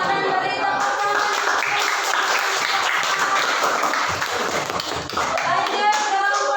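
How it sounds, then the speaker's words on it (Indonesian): Classroom applause from students, steady clapping sustained across the clip, fairly loud and dense, with children's voices mixed in. "Silakan beri tepuk tangan."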